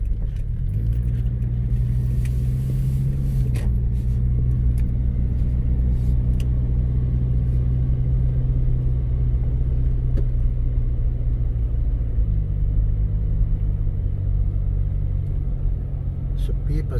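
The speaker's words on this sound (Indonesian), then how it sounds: "Ada kendaraan bemo." Minibus and car traffic on a quiet street in Kupang, a steady close engine rumble with idling drone and low hum throughout, a vehicle passing nearby, faint voices underneath.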